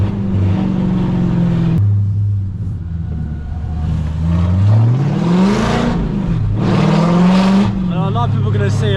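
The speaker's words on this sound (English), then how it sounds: "Because of how loud the car is, people think it's going fast, but it's actually not that fast." A loud Audi V8 car drives with a deep, rumbling engine note that rises and falls as it accelerates and shifts, heard close and continuous throughout.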